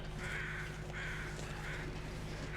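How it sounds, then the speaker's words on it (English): Crows caw loudly in The Long Dark video game, with about three harsh calls repeating at a steady pace over constant background ambience. "Why are there so many crows? And why are they all so loud?"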